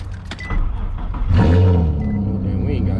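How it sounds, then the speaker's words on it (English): An Infiniti Q50 car engine cold-starts close by: a cranking whir, then a loud rumbling catch and a settling idle, with a voice talking over it. "let me give y'all boys a little cold start."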